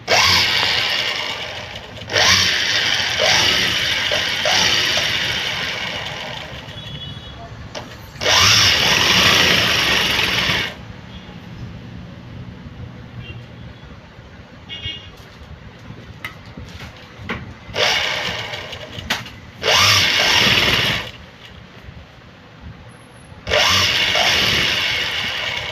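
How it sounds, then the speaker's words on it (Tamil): A sewing machine runs a long stitch along a blouse hem in several bursts of steady whirring separated by pauses, close and fairly loud with no talking. "லாங் தையல் போட்டுருவோம்."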